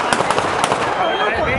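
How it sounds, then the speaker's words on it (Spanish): Gunshots crack in a zombie survival video game, a rapid run of sharp, loud pops close by with voices talking underneath. "Estamos otra vez pegando tiros."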